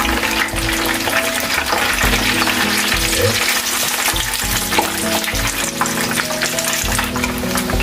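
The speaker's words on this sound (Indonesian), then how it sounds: "Nah, ini tahunya mengandung air, biar bunyinya beletok-beletok." Tofu still holding water and pre-steamed potato pieces fry in hot oil, producing a loud, close, continuous sizzle dense with popping and crackling bursts.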